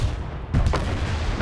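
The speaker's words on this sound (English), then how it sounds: "Firing all cannons at the imposing prison, your artillerymen act foolishly and pay no attention to the consequence of their shots" Cannons in the Anno 1800 video game fire on a fortress, a short burst of deep booming artillery blasts overlapping one another, loud and close, with no talk.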